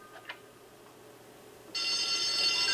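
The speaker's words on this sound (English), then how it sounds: "Maybe the alarm will wake me up." An alarm clock in the video game Bully suddenly starts ringing with a loud, continuous electronic bell tone after a quiet moment, alone with no talk.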